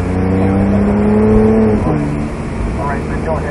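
A Porsche 911 GT3 engine pulls on a racetrack, a loud close rising whine that dips as a gear changes and then climbs again, with voices talking over it.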